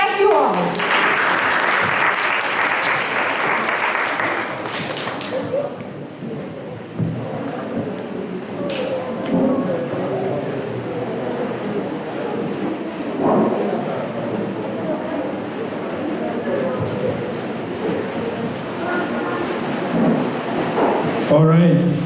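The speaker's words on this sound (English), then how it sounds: "please give Ms. Sandy Shaw another round of applause" Audience applause at a Technology Day 2023 event, a broad steady patter of clapping that swells near the start and carries on for about twenty seconds, with voices murmuring underneath.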